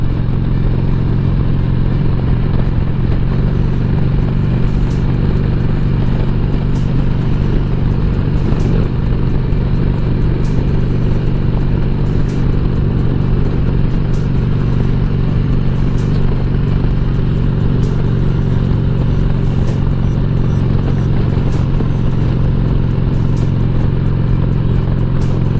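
A motorcycle cruises along the road to a swap meet with a constant, loud engine drone and rough clatter, held steady without letup and with no talk over it.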